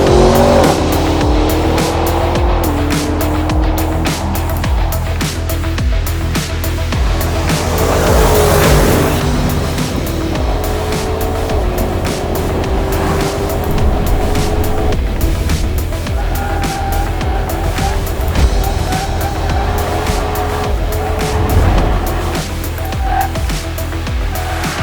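A 600hp SUV laps a race track at speed, its loud engine rising and falling through gear changes, with tyre squeal through the corners. The sound is continuous and close, as from inside the cabin.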